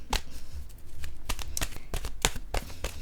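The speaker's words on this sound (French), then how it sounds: "Je pense que je vais piger une carte de mon oracle de l'âme intuitive pour commencer." A deck of oracle cards being shuffled by hand: repeated crisp riffling snaps and slaps in an irregular rhythm, close up and clear, with no talking over it.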